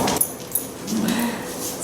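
Six-week-old Aussiedoodle puppies whimper and yip in short bursts close by, with faint background noise and a little movement between the cries.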